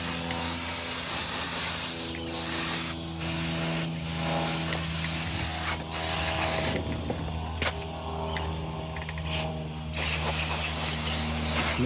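A water jet sprays the underside of a Traxxas X-Maxx RC truck chassis, loud hissing bursts starting and stopping several times, with brief gaps of quieter rumble between them.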